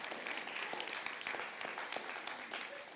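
A church congregation applauds together, a steady dense wash of many hands clapping at close range with a few voices mixed in, continuous throughout.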